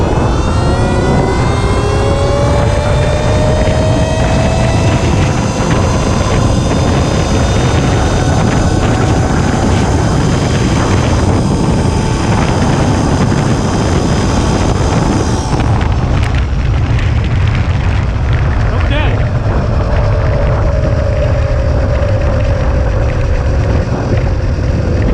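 An electric motorbike in rocket mode runs at full throttle along a road, its rising motor whine layered over heavy, loud wind rush, then dropping and climbing again.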